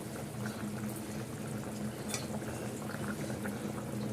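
Egg and potato curry simmers in a pot with a continuous bubbling, gurgling boil and a low steady hum underneath, close by and uninterrupted.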